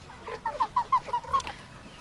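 Young Cochin and mixed-breed chickens let out a quick series of about six close, nasal honking calls in an outdoor autumn setting, with soft background noise around them.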